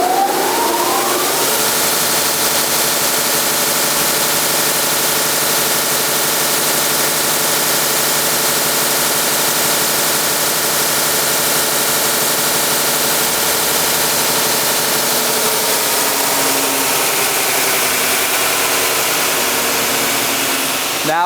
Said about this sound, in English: we'll turn your jog switch so the belt starts turning